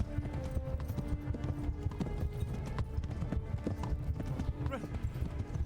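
Horse hooves galloping in the medieval game Kingdom Come: Deliverance, a steady rhythmic clip-clop running throughout, mixed with game effects while someone talks over it.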